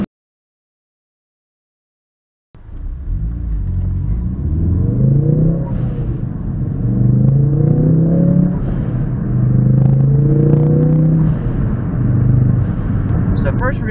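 A tuned Ford Focus RS engine starts after two seconds of silence and revs repeatedly, loud and close, with rising and falling rumbling pitch sweeps over a steady idle.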